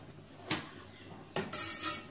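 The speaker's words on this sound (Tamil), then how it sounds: "இப்போ பாருங்க, சாம்பாருக்கு ஒரு கடாய் வச்சிருக்கேன்" A kadai pan is set down on the stove for sambar, with oil inside: two distinct metallic clanks, then a brief rattle of utensils, fairly close and otherwise quiet.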